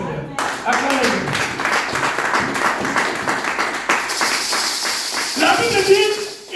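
A church congregation claps and applauds in a steady, loud patter of many hands, with voices talking over the clapping and some cheering toward the end.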